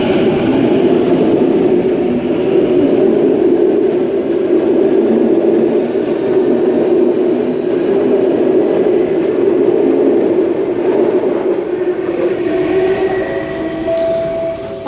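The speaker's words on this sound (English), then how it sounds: "And Waratah Series 1 A10 now departing platform number 4 Hornsby via North Shore service." A Waratah Series 1 electric train pulls out of a platform at Chatswood at night, a loud, sustained low rumble and whine with rolling wheel noise that eases slightly toward the end.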